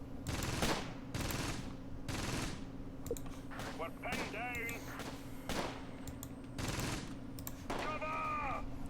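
Machine gun and rifle fire in the Close Combat Gateway to Caen wartime strategy game, repeated sharp bursts and single shots at a steady moderate level over a constant low hum.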